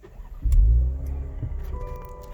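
2020 Cadillac CT5-V started with a push button: the engine cranks and catches with a deep rumbling surge, then settles into a steady idle. It is close and heard alone.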